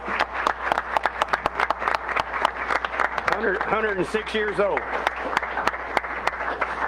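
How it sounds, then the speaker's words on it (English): Scattered applause at a county commission meeting, sharp individual claps spread across the room, with a person speaking over them midway. "Can I get one more round of applause?"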